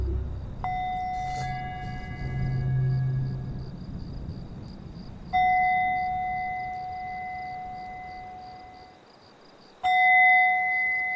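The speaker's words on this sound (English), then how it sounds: "At the beginning, you'll hear the bell, and at the end, you'll hear the bell" A meditation bell struck three times, each a bright sustained ring with clear overtones that slowly fades, the strikes spaced several seconds apart in otherwise quiet surroundings.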